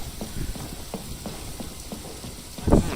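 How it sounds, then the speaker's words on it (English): Steady rain downpour in Genshin Impact, Inazuma region, a continuous broadband hiss of falling water with scattered patters and a louder thump near the end, no voices. "Taking a stroll in the middle of a downpour certainly rouses the spirit"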